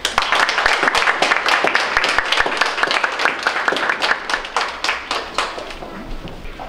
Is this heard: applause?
yes